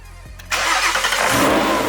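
A supercharged 2019 Ford Mustang GT cranks briefly and then fires up, catching into a loud, rough, rumbling idle close by.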